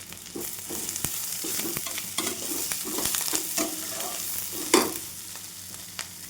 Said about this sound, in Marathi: बघा आपला कांदा आहे ना छान परतला गेलेला आहे